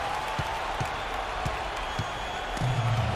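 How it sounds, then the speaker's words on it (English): Loud, constant roar of a packed basketball arena crowd during a tense Houston Rockets overtime game in a video game, with faint ball bounces underneath and a swell of noise toward the end. "how about the intensity and focus of the crowd here? So loud in this place."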